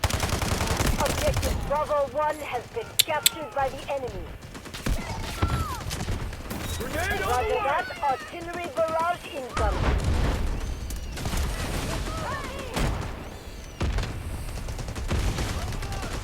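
Rapid gunfire bursts and fusillades in the 24-versus-24 online shooter Delta Force, loud and near, with voices talking over the shooting for much of the stretch.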